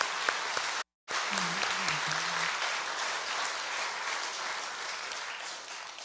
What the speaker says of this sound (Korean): 우리 하나님께 영광을 이들에게 박수를 한번 드립니다